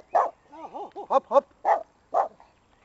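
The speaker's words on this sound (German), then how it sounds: "Das ist der Hund. Der kleinste Hund weit und breit." A very small dog lets out about five sharp, close barks mixed with warbling, whiny yowls, and a person briefly speaks a single word.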